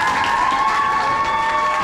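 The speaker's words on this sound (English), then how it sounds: "So, a big round of applause." A school contestant vote event gets a short burst of audience applause and cheering, a dense wash of clapping and crowd noise over a steady tonal hum, loud and continuous.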